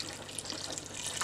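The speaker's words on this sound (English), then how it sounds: "Then I'm topping it up with water" Water pours into an Instant Pot of bones for bone broth, a steady, soft splashing rush that runs unbroken for the whole moment, fairly quiet and close, with no voices.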